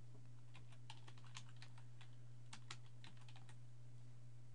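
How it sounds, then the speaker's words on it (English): A phone number is typed on a computer keyboard in a steady run of light, close keystroke clicks, with a short pause partway through, over a constant low electrical hum. "Now you can just type in the phone number directly or search a name"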